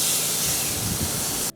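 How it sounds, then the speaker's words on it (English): Steaks sizzle on a hot charcoal grill, a loud, dense, continuous hiss close up that cuts off abruptly near the end. "lay those bad boys on the grill and hear that sweet sizzling sound"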